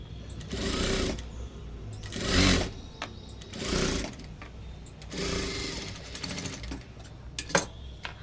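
An electric sewing machine stitches a blouse in several close, loud whirring bursts of a few seconds each, separated by short pauses.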